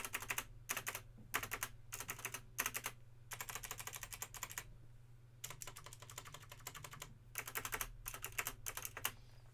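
Bursts of crisp, clicky keystrokes on a Logitech G Pro X mechanical gaming keyboard, rapid typing in several runs with short pauses, close and clear over a low steady hum.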